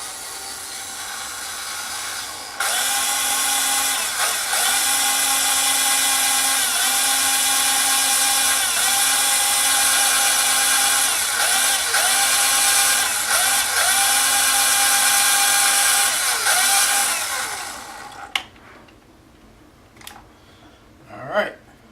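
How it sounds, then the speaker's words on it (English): A power drill bores through the other side of a tricopter's main frame for several seconds, a loud steady whine with slight dips in pitch, then stops and leaves a few faint handling clicks. "drill through the other side"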